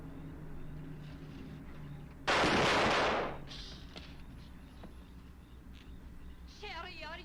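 A gunshot from the 1940 film The Devil Bat rings out as one loud, sharp burst lasting about a second, with the film's dialogue and music running faintly around it.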